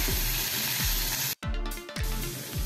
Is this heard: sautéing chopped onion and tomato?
yes